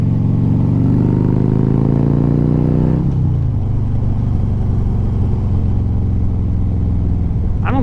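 A Triumph Bonneville motorcycle with Reinhardt exhausts runs loud and close, its engine rising in pitch for a few seconds before dropping to a deep, lumpy, rumbling idle.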